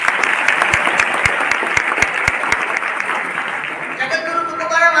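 An audience claps steadily for a library at a reading event, dense continuous applause with a few sharp distinct claps up front, fading toward the end as a voice begins to speak.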